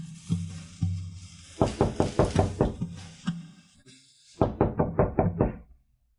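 Knocking on a door: first a few slow knocks, then a rapid series of sharp raps, a pause, and another quick burst of five or so close, loud knocks.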